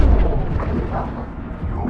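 The Impact Shot ability fires in Mass Effect 2 as a short, heavy, low booming blast with a rumbling tail, loud and close for about two seconds.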